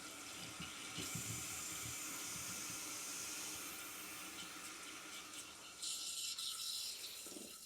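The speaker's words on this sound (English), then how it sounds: "We're gonna turn the water back on." Toilet tank refilling after the water supply is turned back on, a steady close hiss of running water that swells slightly near the end, with no talk.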